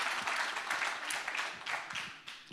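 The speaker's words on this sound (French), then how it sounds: "on peut l'applaudir" An audience applauds an award winner at a science prize ceremony, brisk close clapping rising and falling in waves for a couple of seconds.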